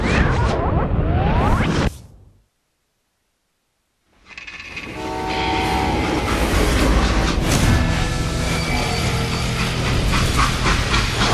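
A loud freight train in the video game Call of Juarez: Gunslinger rumbles and roars with a horn-like tone, after a short fade to silence; the rolling noise continues steadily to the end.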